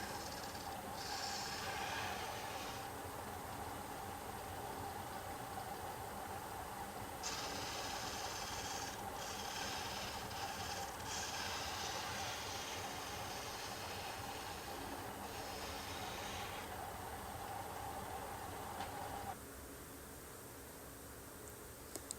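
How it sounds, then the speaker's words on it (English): Power sander working an airplane propeller, a steady mechanical whir with passes of brighter, raspier abrasion as the pad meets the blade, close and continuous, easing off near the end. "it doesn't take much with this sander at all. And just smooths it right up."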